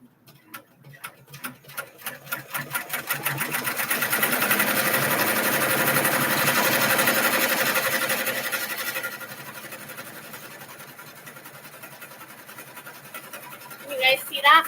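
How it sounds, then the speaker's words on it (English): A sewing machine satin stitches a glow-in-the-dark applique, its needle running in a steady, rapid mechanical clatter that fills the clip close up, slowing slightly near the end with a few brighter rattles. "So this is the satin stitching part. It's gonna satin stitch the glow first."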